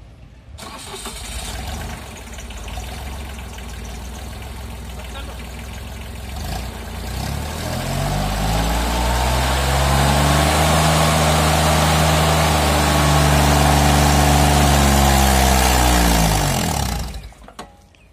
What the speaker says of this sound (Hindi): तो चलिए ट्रैक्टर स्टार्ट करते हैं